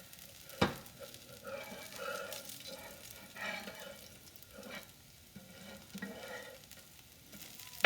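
Restaurant-style hash browns sizzle softly in a pan while a spatula scrapes and turns them, with several gentle knocks and shuffling sounds over a low frying hiss, close and quiet with no talk.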